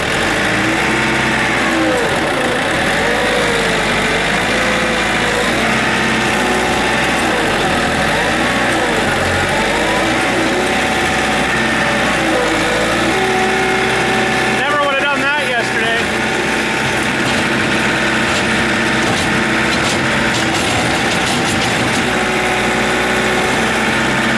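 A backhoe engine runs loud and close with a steady rumble, then rises in pitch as the throttle opens, a rough, vibrating drone lasting throughout while someone talks over it.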